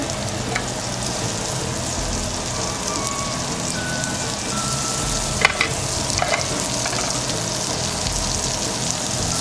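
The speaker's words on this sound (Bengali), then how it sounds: "ওই তেলের ভিতরে থেকে তেলে আমরা পেঁয়াজটাকে ভেজে নেব।" Onions fry in hot oil in a pan, giving a steady, loud sizzle with a few brief clinks and scrapes partway through, no voices over it.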